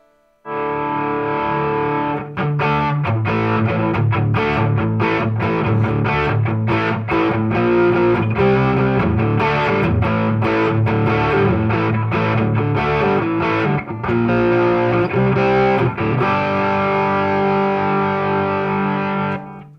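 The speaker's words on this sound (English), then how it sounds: "I'm turning off the distortion" A heavily distorted electric guitar through a Fender Tone Master Deluxe Reverb amp plays continuously, thick and saturated with dense harmonics, strummed chords and riffs at steady loud volume throughout.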